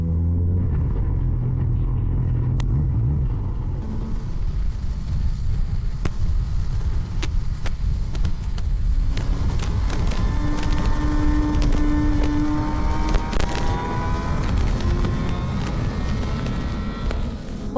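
A Honda CB 1000R Black Edition motorcycle engine accelerating hard, a loud, close, rumbling roar whose pitch climbs steadily as it revs, with faint rushing wind beneath.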